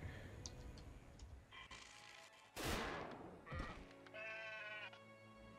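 Sheep in the game Craftopia give several wavering bleats scattered among clicks and a loud sudden burst of noise, with a final drawn-out bleat near the end. No speech.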